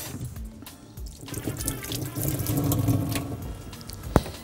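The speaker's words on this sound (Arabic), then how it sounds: "اشطف ايديا بس بطرح الفراخ دي" Water runs from a kitchen tap as hands are rinsed at a sink while raw poultry is being prepared, a steady splashing wash with a sharp clink near the end.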